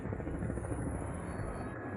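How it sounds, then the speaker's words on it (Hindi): A helicopter landing on an active volcano gives off a steady, dense rotor and engine roar, constant and fairly quiet throughout with no voices. "हम एक एक्टिव वॉल्केनो पर हेलीकॉप्टर लैंड करने वाले हैं।"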